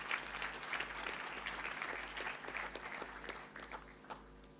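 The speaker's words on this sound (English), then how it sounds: "Kindly give Maya another round of applause, please." A graduation ceremony audience at a university claps in a steady, full round of applause that fills the hall and tapers off slightly toward the end, with no voices over it.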